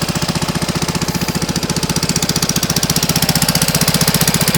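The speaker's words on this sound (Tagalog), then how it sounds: "Tunog scooter." A 2023 Vespa Primavera SE scooter engine runs steadily close by, a fast, even, throbbing putter with a rough mechanical rattle, alone without voices.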